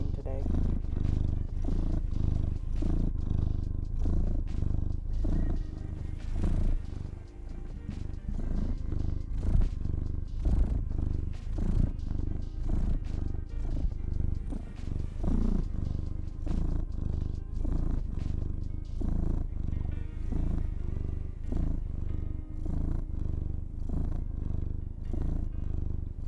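Male cat purring intensely, a continuous close rumbling pulse that runs the whole time with a person talking over it.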